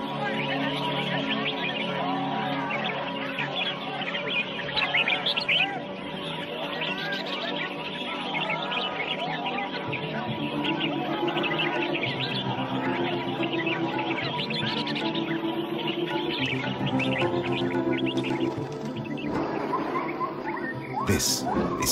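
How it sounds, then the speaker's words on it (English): Exotic birds sing at a bird singing competition in a Thai market, a dense, continuous mix of overlapping trills and warbles with steady busy crowd-like background throughout. "here, participating in a bird singing competition"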